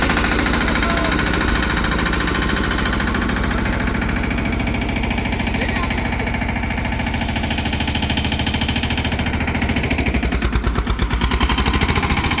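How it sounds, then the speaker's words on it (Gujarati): A tractor engine runs steadily on a village farm where trees are being watered, a loud, continuous mechanical chugging up close, with its pulsing beat becoming sharper and more rapid toward the end. "આપણે ટ્રેક્ટર રાખીએ છીએ."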